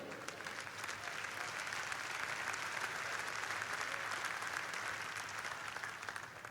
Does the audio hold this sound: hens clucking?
no